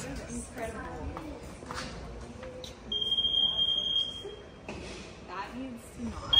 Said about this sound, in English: these doors are so annoying. They beep like that.